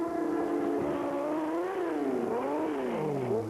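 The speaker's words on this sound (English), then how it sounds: "You can hear the noise this cycle makes." A racing motorcycle at the 1994 AMA Support Series race at Road Atlanta, its transmission failing, drones with a loud wavering engine note that rises and sags unsteadily before dropping away at the end, with no voices over it.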